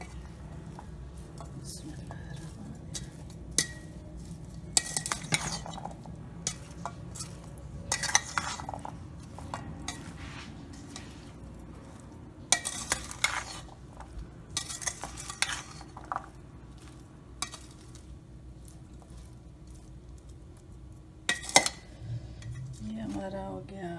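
A spoon stirs and mixes a pani puri chaat filling in a bowl, with bursts of scraping and clinking separated by quieter stretches and a low background hum, and some speech in places.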